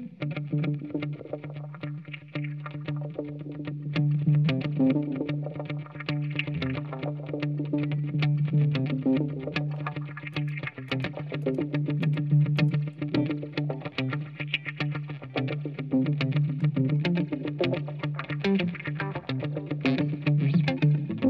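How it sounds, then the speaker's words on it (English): Electric guitar played through a pedal set to a modified echo, producing a dense, gritty, warbling wash of repeating notes that runs continuously at a moderate level. "which is just a modified echo sound."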